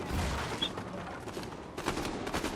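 Gunfire from the video game Fortnite, a rapid burst of shots sounding loud and close over busy in-game noise, with a second cluster of shots near the end.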